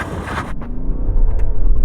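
A BMW with a 3-litre straight-six diesel and 8-speed automatic launches hard under launch control, a loud engine roar rising steadily as it accelerates, heard from inside the car with no talk.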